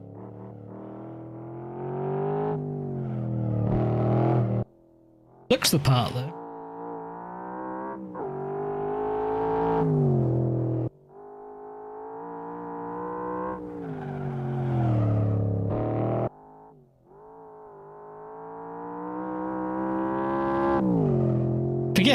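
Race car engine in Assetto Corsa revving up through gears in long rising pulls with brief dips at shifts, loud and close, a slightly muffled tone, and someone speaks briefly over it.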